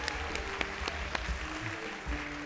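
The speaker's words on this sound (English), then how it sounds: "Little applause." Light audience applause at a church service game-show segment, scattered hand claps spread across the moment with low room rumble, moderately quiet and brief.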